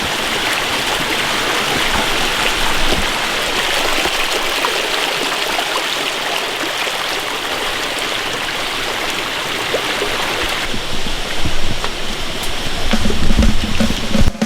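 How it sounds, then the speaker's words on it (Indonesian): A babbling mountain stream on a Mount Salak hiking trail near Bogor gives a loud, steady rushing splash close by. Brief thumps and rustling rise near the end. "Ya suara gemericik air dengar kan."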